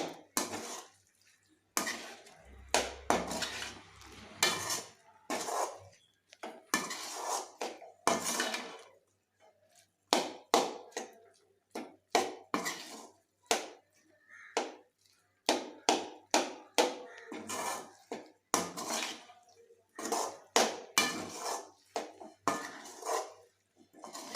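Vegetable biryani mixture being tossed and folded in a metal pot, a long series of close, irregular scraping and clinking strokes of a ladle against the pot with short pauses between, and no voices.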